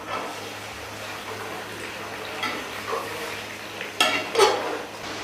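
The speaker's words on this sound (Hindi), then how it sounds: "गोश्त को करते हैं फ्राई।" Beef frying in a pot for nihari, with a low sizzle and occasional scraping and stirring clatter of a utensil against the pan, while a person talks intermittently.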